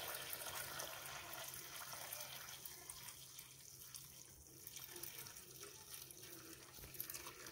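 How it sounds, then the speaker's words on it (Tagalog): Hot water pours from a faucet or kettle over zucchini set to soak, a steady close-up running-water stream that holds without pause from start to finish. "ilalagay natin yung ating mainit na tubig doon sa ating zucchini"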